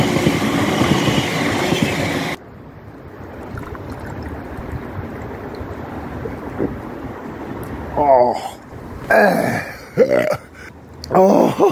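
A train rumbles along a nearby track loudly for the first couple of seconds, then cuts off to quieter background, followed by a few brief bursts of someone talking.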